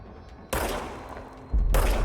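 Gunfire in the video game Control, shooting at shadowy target copies: two loud, broadband bursts of shots, one starting around half a second and a second heavier volley near the end, with no talk.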